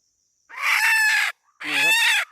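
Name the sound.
chicken clucking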